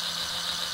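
Large Mould King linear actuators on a 17013 model extending, running on a new 6.0 battery box: a steady, even motor whine with a high gear-driven hum, constant and fairly faint, with no talking.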